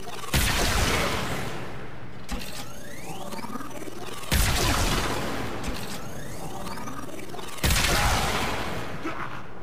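Opticore Vandal, a charged energy weapon in the shooter game Warframe, fires three loud booming blasts spaced about two seconds apart, each with a sharp onset and long decaying roar, separated by whirring mechanical charge-up and reload sounds.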